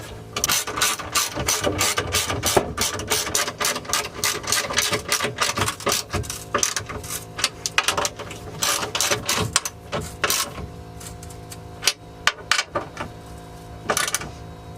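Rapid ratchet clicking near at hand as a Lexus IS300 coilover is tightened down, bursts of quick pawl ticks broken by short pauses and slowing toward the end, no speech.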